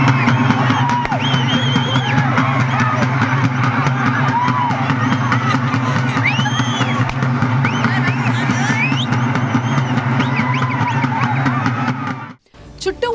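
A crowd at a Karthika festival keeps up steady whistling, shouting and cheering while sheep circle a bonfire pit. The noise stays dense and continuous, with shrill whistles rising above the hubbub, then cuts off abruptly near the end.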